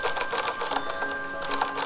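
Typing on a keyboard in Word for Mac: rapid, steady clicking keystrokes that stay close and busy throughout, with no talk.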